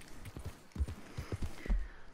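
Horse hooves clip-clop on the ground in the Red Dead Redemption 2 video game, a handful of uneven thudding steps at a walking pace over faint background ambience.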